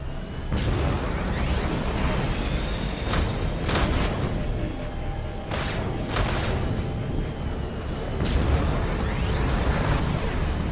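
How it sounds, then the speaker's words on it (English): Missile system firing in Mass Effect 2 from a fighting vehicle: a steady dense rumble with several sharp booming blasts spaced across the stretch, loud and close throughout. "Missile system active"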